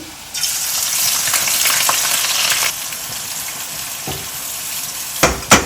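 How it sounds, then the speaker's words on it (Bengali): Chopped onions dropped into hot oil, a loud close burst of frying hiss that holds steady for a couple of seconds, then eases to a quieter sizzle with a few scraping stirs, no talking. "তেলটা গরম হয়ে গেছে ওকে আমি দিয়ে দিচ্ছি পেঁয়াজ কুচি"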